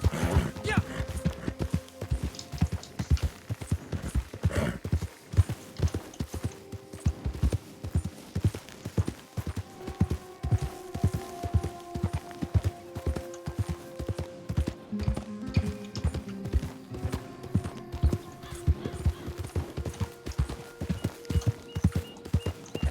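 Horse hooves in the video game Red Dead Online beat in a fast, steady galloping rhythm throughout, loud and close, with some game music and someone talking faintly at times.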